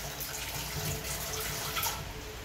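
Tap water runs steadily into a kitchen sink while onion and ginger are rinsed under it, a continuous close hiss with light splashing and no talk.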